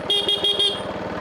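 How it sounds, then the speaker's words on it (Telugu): A car horn honks several times in quick succession, loud and close, a rhythmic series of short toots. "ఇంత హార్న్ కొడుతున్నావు అప్పటి నుంచి"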